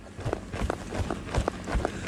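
A ridden horse moves up into a trot during a training session on softening poll resistance. Its hooves strike the ground in soft, steady, evenly spaced beats at moderate distance, with faint background noise.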